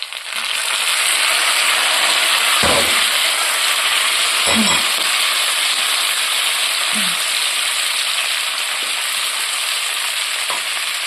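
Onion and tomato frying in oil in a pan, a loud continuous broadband sizzle close up, broken by a few soft knocks and stirring scrapes, with no talking.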